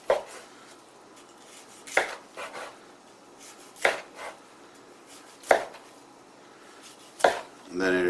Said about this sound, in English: And I'm going to slice the breast.